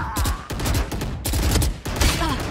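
Rapid bursts of Phantom rifle fire in a Valorant esports final, sharp overlapping shots packed into a dense, loud volley with brief gaps between bursts.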